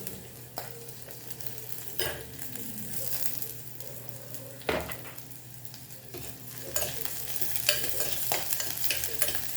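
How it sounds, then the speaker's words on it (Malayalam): Onions, green chillies and curry leaves sauté in a pan with a soft, continuous sizzle. A spoon scrapes and stirs at intervals, and the frying grows a little louder toward the end. "ഉള്ളിയും പച്ചമുളകും നല്ല ഒന്ന് വാടണം. നമുക്ക് കരിവേപ്പില ഇട്ട് കൊടുക്കാം."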